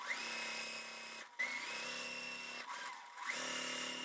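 A sewing machine stitches quilting fabric pieces together in steady whirring runs, with two brief pauses between bursts, close and fairly quiet with no talking.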